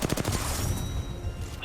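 Heavy gunfire in an Apex Legends tournament match: rapid bursts of automatic weapon fire at the start, then sustained shooting under a faint high whine, with a commentator's voice faintly mixed in.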